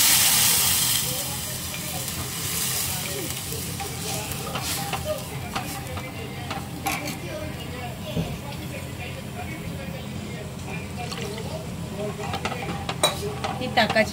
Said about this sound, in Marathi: म्हणून ती फक्त त्याला वाफ येईपर्यंत हलवतच राहायची आहे